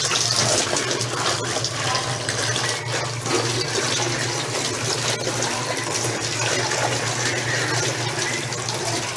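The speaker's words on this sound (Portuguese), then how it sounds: "Agora eu vou jogar a água." Water poured and splashed from a hose while washing out a room, a steady continuous gushing rush that holds at the same level throughout, with no voices.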